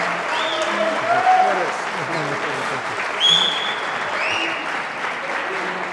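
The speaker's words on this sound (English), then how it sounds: "please give them a strong round of applause for what they have done" A crowd at the Team Revolution 2025 season opening kickoff gives a strong, continuous round of applause lasting several seconds, with some voices and cheers mixed into the clapping.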